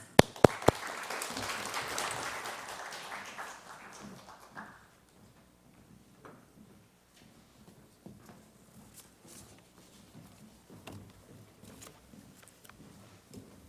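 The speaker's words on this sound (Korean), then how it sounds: "박수하시겠습니다" An audience applauds at the opening ceremony of a Korean workplace-mission anniversary church service, with loud, dense clapping that fades out after about four seconds and leaves scattered faint noises in the hall.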